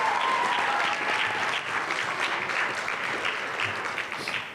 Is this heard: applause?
yes